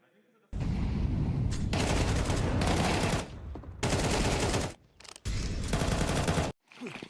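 Rapid gunfire bursts in the video game Counter-Strike 2 during a Luminosity vs Ninjas pro league match, loud dense volleys in several blocks separated by short pauses, with a voice faintly underneath.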